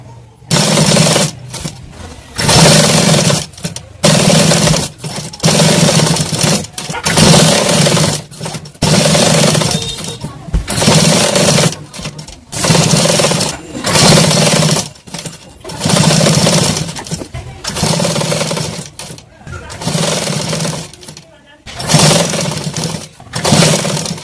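An electric sewing machine stitches piping on a katori blouse, its loud, rapid whirring running in repeated bursts of a couple of seconds each, separated by brief pauses.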